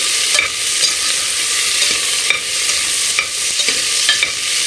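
Onions sautéing in a pan for a capsicum recipe, a loud, dense, continuous hiss of frying with occasional soft stirring knocks, close up and without speech.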